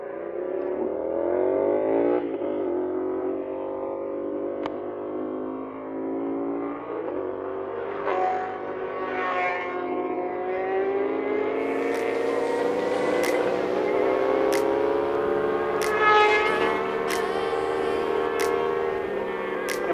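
A CFMOTO 450SR motorcycle with no exhaust pipe passes by, its engine note rising and shifting in pitch as it approaches and revs, with faint voices in the background.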